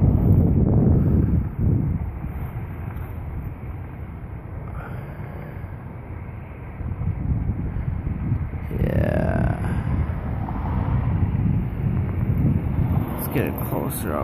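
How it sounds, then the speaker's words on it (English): Wind blowing outdoors, a steady rushing buffet against the microphone throughout with gusts rising and falling, while people talk faintly in the background. "Windy out here for you."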